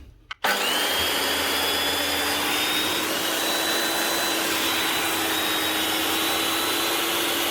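A repaired Makita 9609B angle grinder with a broken gearbox lock ring removed starts with a click, then runs at a steady loud whine with no change in speed. No one speaks.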